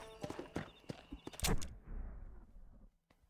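A horse's hooves clip-clop on the ground in Red Dead Redemption, several sharp knocks in an uneven walking rhythm before a low rumble fades to near silence.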